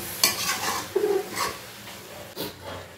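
Chicken bhuna masala being stir-fried in a pan, soft scraping stirs and a low sizzle close by, with a couple of sharper clinks and no speech.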